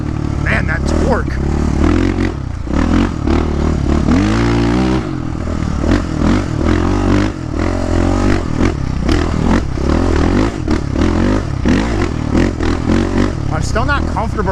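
A Yamaha Raptor 660 ATV engine runs loud and close while being ridden, with a steady throaty drone, revs rising and falling, and rattling scrapes and clatter over it.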